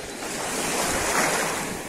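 Black Sea surf at Zatoka beach near Lymanska, a steady, loud wash of waves breaking with wind noise over the microphone, continuous and close with no talking.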